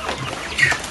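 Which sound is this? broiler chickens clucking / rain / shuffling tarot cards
broiler chickens clucking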